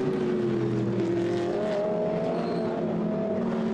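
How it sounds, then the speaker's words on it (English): Several GT race cars, a BMW among them, run in a Blancpain Sprint Series race at Nogaro, their engines a steady, droning roar that holds without a break and shifts slightly in pitch as the cars pass. "at the end of the straight, all sorts of motor racing taking place"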